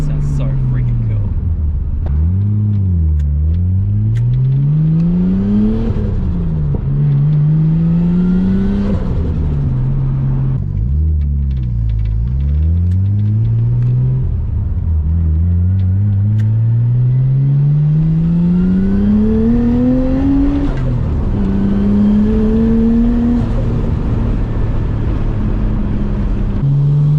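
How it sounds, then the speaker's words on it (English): A car engine revs repeatedly, its pitch rising and falling in several sweeping surges before a long climbing rev, loud and close throughout. "This car sounds so freaking cool."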